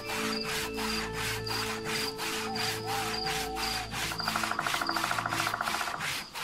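A hand saw cutting through wood in a garden at night as a radio-play effect: steady, rhythmic back-and-forth strokes, about a dozen in close succession, loud and near over a low sustained drone.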